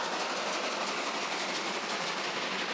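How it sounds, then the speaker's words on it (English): A train passes at night beneath a bridge: a steady, loud, broadband roar and rattle of rail cars that holds constant throughout, with no voices. "just as the train passed"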